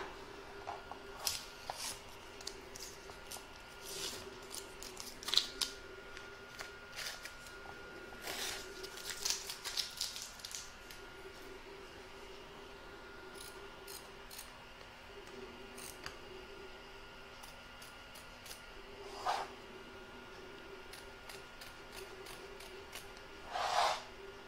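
Scissors snip loose threads from the back of a machine-embroidered in-the-hoop table topper, giving scattered short crisp cuts with pauses between them against a faint steady hum.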